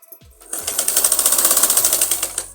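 An electric sewing machine stitching fabric for a child's umbrella frock, a quick rhythmic run of needle strokes lasting about two seconds, close and clear.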